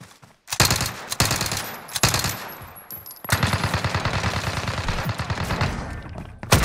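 Loud bursts of rapid automatic gunfire in a multiplayer shooter game, with short volleys early, then a long sustained rattling burst from about the middle to the end.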